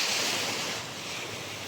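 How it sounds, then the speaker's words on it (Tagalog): Ocean waves crashing on the shore beneath a cave viewpoint on Boracay, a broad steady hiss of surf that is loudest at first and eases slightly, with no voices. "hampas ng alon."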